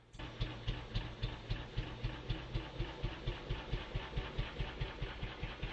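A 1950s British Panther Model 100 motorcycle engine idles nearby with a slow, steady thumping beat, each firing pulse distinct and evenly spaced.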